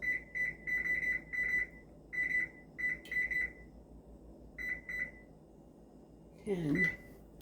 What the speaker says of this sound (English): So we set the timer for 10 minutes